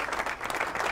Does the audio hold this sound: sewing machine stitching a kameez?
no